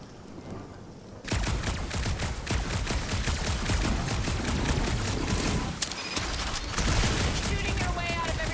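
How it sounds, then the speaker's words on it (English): Gunfire in the video game Marvel's Guardians of the Galaxy: after a quiet opening second, a dense, loud fusillade of rapid shots and booms runs continuously with brief dips, under faint voices. "Shooting your way out of every problem again"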